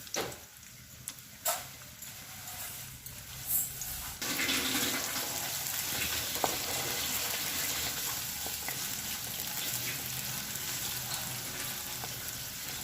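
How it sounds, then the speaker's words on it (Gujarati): One finely chopped medium onion goes into about 50 grams of hot oil and bursts into a loud, steady, close-up sizzle that continues without a break, after a few quieter clinks and kitchen knocks. "એક મીડિયમ સાઇઝની મેં ડુંગળીને ઝીણી કટ કરી નાખી છે, તે આપણે અંદર નાખી દઈશું"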